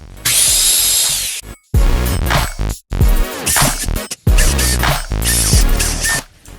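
A power drill drives screws into wooden trim on a DIY reptile baby rack cage, in several loud, close whirring bursts separated by short pauses.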